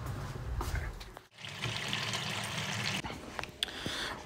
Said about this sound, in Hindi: पानी तो देना पौधे को।